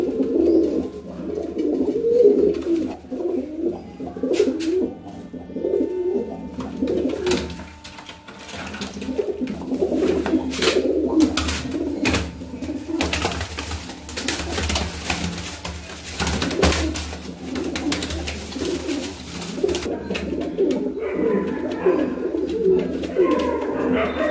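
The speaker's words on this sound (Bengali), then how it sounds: "এগুলো খুবই বড় সাইজের পায়রা" Large fancy pigeons coo in low, throaty repeated bursts close by, with scattered clatter and rustling in the background.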